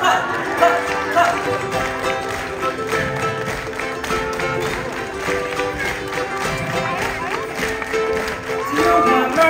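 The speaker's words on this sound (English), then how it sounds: "Everyone clap, clap, clap, clap." Concert crowd at a live pop show in a Los Angeles theatre clapping along to a song, a steady rhythmic patter of many hands blended with loud music and singing throughout.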